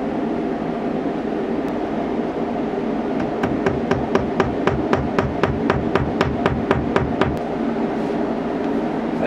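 Hammer blows driving fasteners into shower tile backer board inside a school bus conversion, a quick steady run of about twenty sharp strikes from midway on, ringing over a loud constant rumble.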